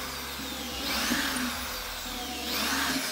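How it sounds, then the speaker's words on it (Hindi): An electric drill cuts a round circle into a workpiece while building a homemade bass tube, giving a steady whirring grind that swells louder midway and again near the end. "ड्रिल मशीन से ही मैं इसे राउंड सर्कल में काट रहा हूँ कुछ इस तरह से"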